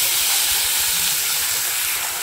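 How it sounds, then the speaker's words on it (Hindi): Dried jhinga fish dropped into a small amount of hot oil seasoned with salt and turmeric, giving a steady, loud, close sizzle and hiss that continues unbroken. "अभी डाल देंगे हम सूखी मछली को।"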